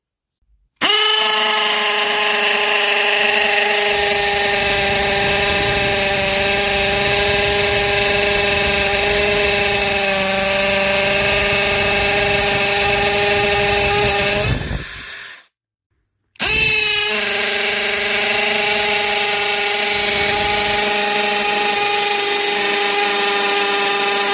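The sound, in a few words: DeWalt DCD709 Atomic subcompact drill drilling concrete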